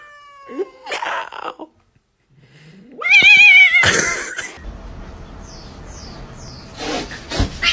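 A cat lets out a loud, drawn-out meow amid other short, sharp cries and scuffling noises, with no one talking.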